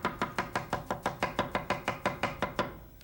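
A kitchen knife slices a zucchini on a cutting board for a beef stir-fry, about fourteen crisp, evenly spaced chops in a steady rhythm, close and clear with no talking.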